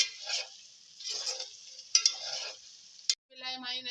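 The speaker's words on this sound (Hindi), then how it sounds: "अब 5 मिनट हम इसको भून लेते हैं" Prawn masala sizzles in a hot pan while a spatula stirs it in short scraping bursts, heard up close. A brief voice comes in near the end.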